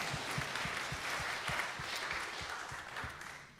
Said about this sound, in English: I think that question deserves an applause